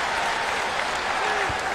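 A basketball arena crowd at a Kansas at West Virginia men's college game roars and applauds in reaction to a replay on the big board, a loud, dense wash of cheering with a voice faintly underneath.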